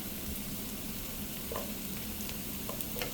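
Ginger-garlic paste and chopped green chili frying in a pan for Kerala egg roast, a soft, even sizzle with a few faint scrapes of stirring and no voices.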